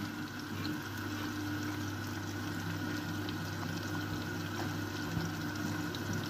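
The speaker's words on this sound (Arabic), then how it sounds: "هون عندنا المي المغلية، هون راح نصب عليها." Boiling water is poured from a kettle over softened onion in a cooking pot for a white bean stew, a steady rushing, bubbling pour held at even loudness throughout, with no talk.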